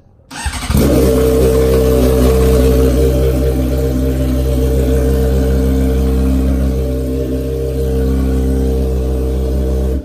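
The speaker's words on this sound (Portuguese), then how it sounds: "Vamos ver se a moto liga, né, pé?" A motorcycle engine starts abruptly, then runs loud and close with a steady, rumbling idle and slight revs.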